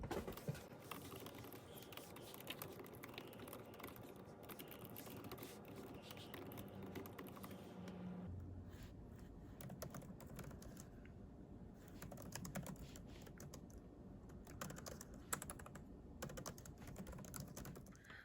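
A computer keyboard clatters steadily during a session of writing fiction, rapid uneven keystrokes close and fairly quiet, continuing without talk.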